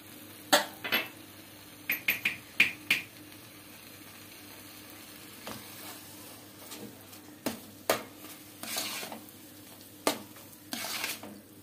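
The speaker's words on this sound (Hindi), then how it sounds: "इसे थोड़ी देर तक हम इसी तरह मिक्स करेंगे, 1-2 मिनट तक ऐसे चलाएंगे और कम फ्लेम पे।" Sugar being stirred into banana barfi mixture in a pan over a low flame, with scraping clinks of a spoon against the pan in uneven bursts and a faint sizzle beneath; nobody speaks.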